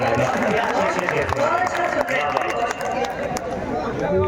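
An audience at an All India Mushaira poetry gathering in Raiganj claps for a guest poetess, steady dense applause mixed with crowd chatter and a voice talking over it.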